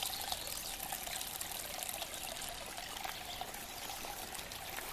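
Spring water trickles out of a mountainside into a small pool at Compton Gap in Shenandoah National Park, a soft, continuous outdoor splashing and babbling that holds steady throughout, with no voices.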